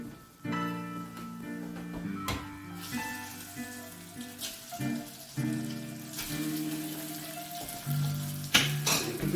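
Fettuccine or linguine pasta tossed into a hot pan sizzles and fries steadily with sharp bursts of crackle, set against a sustained tonal hum in the background.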